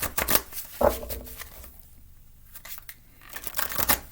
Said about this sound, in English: So, let me shuffle this up.